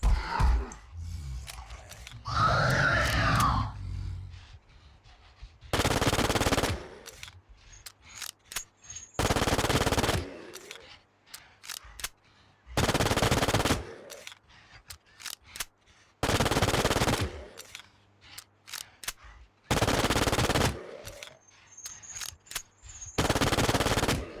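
Bursts of rapid B93R pistol fire from the game Infestation, several loud sustained volleys spaced a few seconds apart with short quiet gaps and clicks between them.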